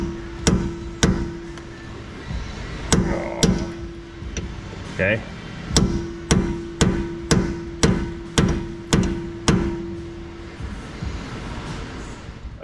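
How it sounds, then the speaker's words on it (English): A series of sharp metallic hammer strikes on a stuck bolt of a Nissan, about a dozen blows in uneven bursts with short pauses, ringing loudly over a steady hum; a voice speaks briefly. "We'll hammer it on some."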